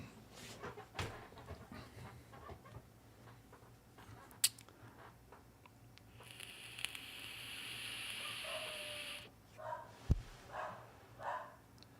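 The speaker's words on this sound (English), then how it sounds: "Moby, why are you barking, buddy?" A pet dog named Moby barks in a few short, fairly faint bursts amid quiet room noise, with some panting and small clattering sounds.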